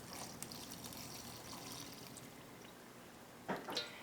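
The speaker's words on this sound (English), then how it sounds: "Now we're just gonna pour it all over our ice." Melted wax poured over ice trickles steadily at close range, with a brief splashy clatter near the end.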